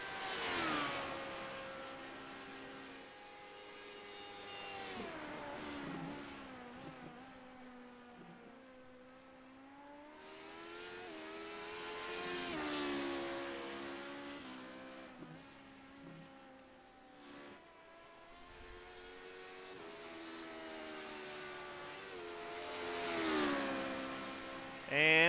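An LMP2 prototype race car's engine howls around the VIR circuit, rising and falling through repeated gear changes and revs, heard from a distance as it sweeps past.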